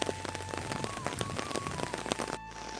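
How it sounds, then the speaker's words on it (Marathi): Monsoon rain patters steadily with distinct drops striking nearby, fairly quiet overall, with no talking. "पाऊस सुरू झाला आहे"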